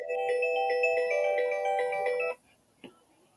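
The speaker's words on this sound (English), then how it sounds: "phone call from an unknown number." A phone rings with an incoming call, playing a bright repeating electronic melody for about two seconds before stopping abruptly, followed by a single faint click.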